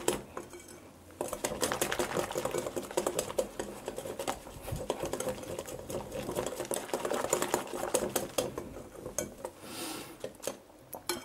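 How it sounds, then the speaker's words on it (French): A whisk beats orange mousse batter in a bowl, a fast, steady run of metallic clicks and scrapes against the sides, close and fairly loud, continuing with brief pauses for about eleven seconds. "Et on continue de fouetter."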